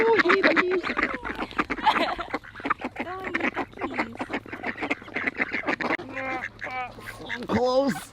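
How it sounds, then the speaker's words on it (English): Ducks quacking close by at a bird sanctuary while being hand-fed, with repeated nasal quacks and honks mixed through continuous chatter from people nearby. "I don't know if I've ever fed a duck from my hand before"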